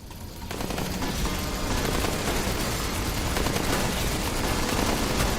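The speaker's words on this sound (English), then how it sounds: "Turrets seem to be putting in a lot of work over here too." Minigun turrets in the video game Space Raiders In Space fire in a dense, unbroken roar of rapid shots, loud and steady for the whole stretch with no pauses.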